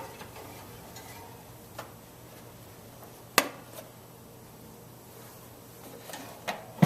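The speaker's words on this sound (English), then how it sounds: "Popping it back into the toaster oven." A casserole dish of spicy tortilla chip casserole topped with shredded Asiago cheese is slid back into a toaster oven, giving a sharp single clunk midway, a couple of softer taps near the end, and a quiet hum underneath.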